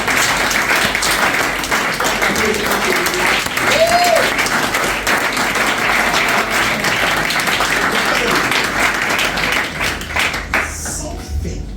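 A church congregation applauding at a French-language service, sustained dense clapping from a large crowd that carries on steadily before thinning out at the very end.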